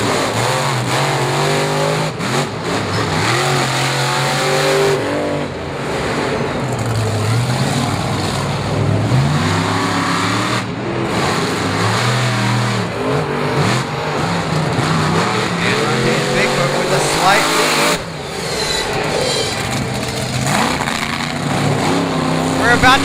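Monster trucks Bigfoot and the Red Solo Truck race at Bristol Motor Speedway, engines roaring and revving loudly in rising and falling surges, with an announcer's voice running over the din.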